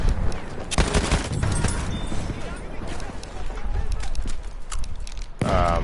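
A cavalry horse gallops in Battlefield 1 on a summer night map, its hooves drumming in rapid clip-clop under bursts of gunfire. Someone talks over it throughout.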